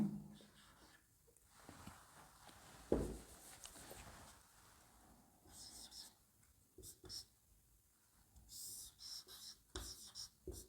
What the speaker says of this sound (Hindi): तो मैं यहाँ लिख देता हूं।